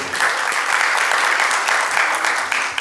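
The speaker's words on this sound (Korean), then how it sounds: "우리 박수로 우리 시작하도록 하겠습니다." An audience at a seminar on death studies claps to welcome a professor to the lecture, dense continuous applause filling the room, fairly loud and even from start to finish.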